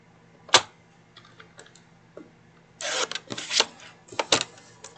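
Paper trimmer blade slides through a scrap of cardstock, sharp scraping swipes and short rasps arriving in a few close bursts after a single tap, quiet between strokes.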